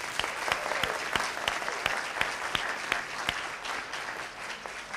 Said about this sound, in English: if you'd help me give them a round of applause